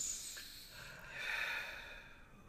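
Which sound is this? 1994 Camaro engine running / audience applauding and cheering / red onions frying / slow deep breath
slow deep breath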